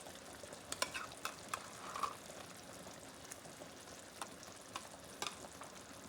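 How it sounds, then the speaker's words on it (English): Meat sizzles in a pan with tomato paste and seasonings as a spoon stirs it, a low steady frying hiss broken by a string of light scraping clicks and taps, close but fairly quiet. "So just mix it up so it can saute and cook with the meat."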